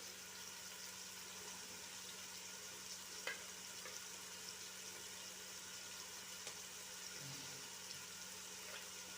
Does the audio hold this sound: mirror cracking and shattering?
no